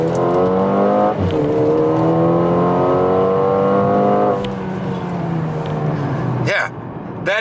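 A Mercedes GLA 35 AMG with a 2-liter engine pulls hard, its loud harmonic engine note climbing through gears with brief dips at each shift, heard close from inside.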